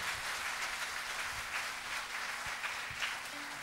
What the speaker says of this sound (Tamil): அவர்களுக்காக நீங்கள் ஒரு முறை பெரிய கைத்தட்டல் ஒன்று கொடுக்க வேண்டும்.